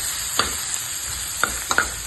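Garlic fries in a pan with a soft, steady sizzle, punctuated by a few sharp scrapes and clicks of a utensil stirring it, close by and with no voices.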